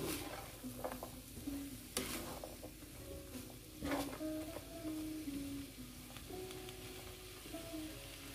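White onion softening in a hot pan, a busy close sizzle under steady stirring and scraping, with short spatula clicks and knocks through the passage and no voices.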